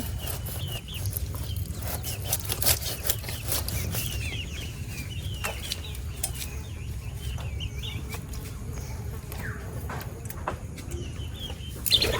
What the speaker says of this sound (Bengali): হাঁস মুরগি